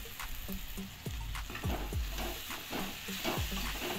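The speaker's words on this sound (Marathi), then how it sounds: "साधारण 1 मिनिट सर्व मसाल्यामध्ये हा बटाटा परतून घेऊया" Cooked potato pieces sautéed in a pan with turmeric and spices, giving a steady soft sizzle broken by repeated spatula scrapes and knocks against the pan at an uneven rhythm, close and alone.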